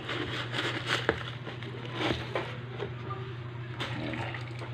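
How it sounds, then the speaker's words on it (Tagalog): Water is poured into a pot of sautéed vegetables, a steady splashing rush with a few small clinks, close and moderately loud over a low hum. "So, nilagyan na natin ng tubig."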